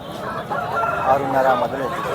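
A rooster crows once nearby at a poultry market, a drawn-out call rising and falling over about two seconds.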